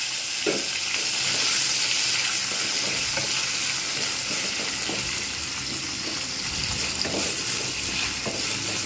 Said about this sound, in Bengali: পেঁয়াজটাকে একটু হালকা করে ভেজে নেব